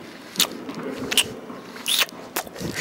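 Close chewing of a muesli bar, with a few crisp crunching bites and soft mouth noises in between and no voices.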